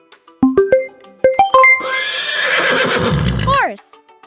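A horse gives a single loud, drawn-out whinny that rises and then falls away, following a short run of bright chime-like musical tones.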